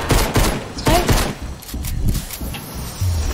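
Rapid bursts of shotgun fire in Fortnite, several loud blasts in quick succession, then a quieter stretch with faint voices.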